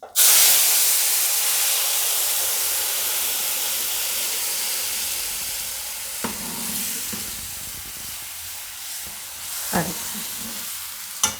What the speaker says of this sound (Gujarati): હવે આપણે આ કઢી છે એ આમાં નાખી દઈશું વઘારમાં.